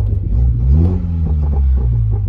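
A MINI John Cooper Works Countryman engine turns over and revs up with a deep rumble, rising then settling into a steady low idle, loud and close.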